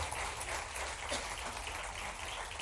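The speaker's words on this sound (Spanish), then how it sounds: "quiero mandarle un aplauso para Randall Vargas" Faint, steady applause at a comedy talk show, a soft, dense patter of clapping that continues evenly throughout with no voices over it.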